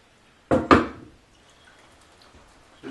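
Hot water is poured over bone broth strainings in two quick, close splashing bursts, followed by faint dripping and quiet.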